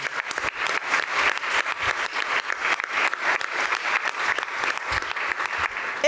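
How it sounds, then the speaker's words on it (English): Sustained, steady applause from an audience at a university pitch event, a thick wash of many hands clapping at even loudness throughout. "Let's give them all a great round of applause again."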